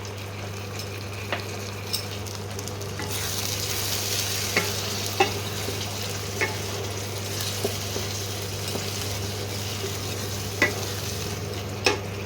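Chicken sautéing in a pan with coriander and green chilli paste and tomato, a steady sizzle and fry with sharp scraping stirs of a spatula at irregular intervals, over a low constant hum.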